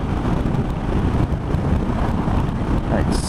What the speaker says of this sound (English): It's quite a windy day today, got quite a strong side wind